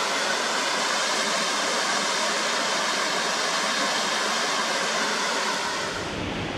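Mountain creek rushing through Fiordland bush, a steady broadband roar of flowing water close by and continuous, easing slightly at the very end.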